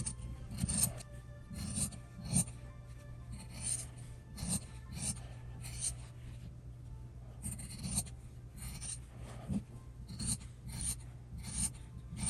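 Scissors snip and rasp through fabric for a small sewing-clips basket, with close, quiet, irregular cuts and rustling spread across several seconds and no talking.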